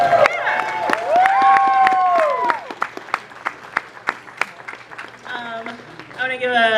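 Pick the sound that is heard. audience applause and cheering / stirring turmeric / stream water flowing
audience applause and cheering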